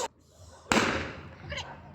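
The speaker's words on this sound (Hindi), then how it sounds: "और पटाखे बजा रहे हैं," Firecrackers burst outdoors in a Haryana village on the Dev Uthani festival day: a quick pop, then one loud, sharp bang with a long crackling, fading tail, and a smaller pop near the end.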